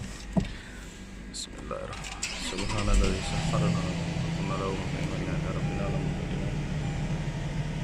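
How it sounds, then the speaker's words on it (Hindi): A Toyota Land Cruiser in Qatar with about 6000 km on it turns over and starts, and its engine settles into a steady, close running drone. A voice speaks briefly near the start. "और सबसे पहले तो हम गाड़ी को स्टार्ट करेंगे।"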